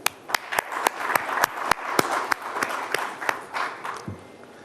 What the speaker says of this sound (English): Let me applaud all of you for coming.